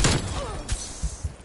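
Gunfire in a Call of Duty match, a short burst of shots at the start followed by several thudding reports spaced through the rest, fairly loud and without talk.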